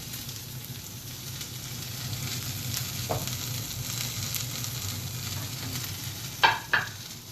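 Eggs over medium frying in a pan on a breakfast stove, a steady crackling sizzle running throughout, with a couple of brief knocks and clatters near the end as the pan is shaken.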